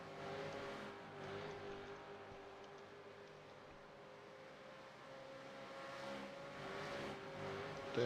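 V8 Supercars racing on the mountain section at Bathurst, a steady engine drone at moderate distance that swells and fades as cars pass, with no talk over it.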